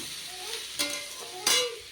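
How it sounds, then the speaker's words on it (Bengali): Onions frying in a pan sizzle quietly and steadily, with two sharp bursts of stirring or scraping at the pan, close by and with no talk. "একটু ভাজতে হবে পেঁয়াজটা ভালো ভাজা হয়নি"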